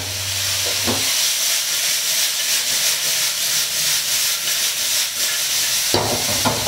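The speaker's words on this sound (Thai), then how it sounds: "ผัดด้วยไฟแรงนะครับแป๊บนึงจะได้กินแล้วนะครับผม" Shimeji mushrooms and sliced carrot stir-fry over high heat in a pan, giving a loud, continuous hiss and sizzle throughout with a few clatters from stirring.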